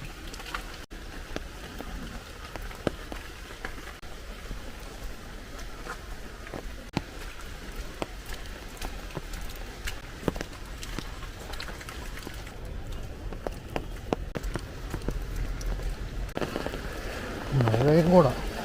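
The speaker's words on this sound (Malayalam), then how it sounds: "മഴയും കൂടാ." Steady rain falls outdoors, a soft continuous hiss of drops on surfaces that holds for the whole stretch and swells a little near the end, with faint voices in the background.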